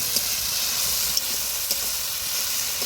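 Chili paste sizzling in a hot oiled pan while cooking a spicy mutton curry, a steady close frying hiss with a few small pops and crackles.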